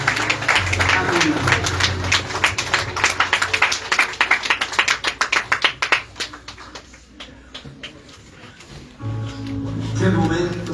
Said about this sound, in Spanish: Dele mejor aplauso a Jesús en esta linda tarde. Aplaude fuerte, fuerte, fuerte, fuerte.